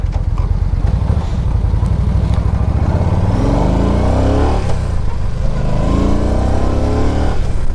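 A 2012 Yamaha V Star 950 Tourer cruiser engine rumbles loud and close while being ridden, rising and falling in pitch through repeated gear changes over steady wind and road noise, with no voices.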